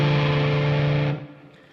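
A distorted electric guitar holds a single inverted chord, thick and buzzing at steady volume for about a second before being cut off and fading into quiet hum.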